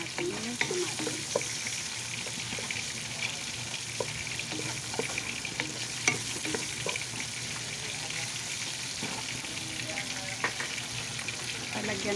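Tomatoes sautéing in a pan for ginisang sayote, a steady close sizzle and frying crackle with occasional stirring clinks running throughout, no talking.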